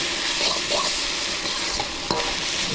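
Soy sauce sizzles as noodles are stir-fried in a hot pan, a steady close hiss with a few soft stirring scrapes and one sharp clink near the end, no talk.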